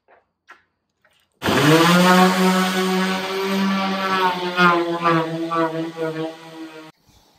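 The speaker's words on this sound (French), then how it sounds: "Donc je vais le poncer pour pouvoir ensuite le reprotéger, le repeindre et puis le replacer bien propre." A power sander runs against an old wooden door part, starting abruptly after a few faint taps and holding a loud, close, buzzing whine with steady harmonics for about five seconds before cutting off.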